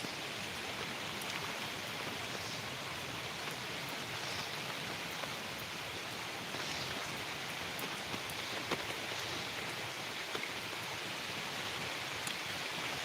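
Steady rain from Cyclone Remal hisses evenly over a fish pond for the whole stretch, a dense, close wash of falling drops with faint scattered patters and no voices.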